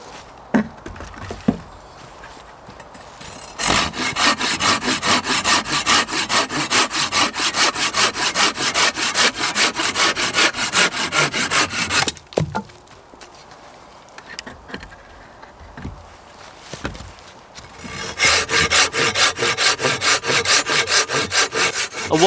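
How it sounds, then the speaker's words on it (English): A hand saw cuts firewood in a woodland by an off-grid log cabin, close and loud, in two long runs of fast rhythmic rasping strokes separated by a pause with a few knocks. "I'm just going to saw up a little bit of firewood for later on"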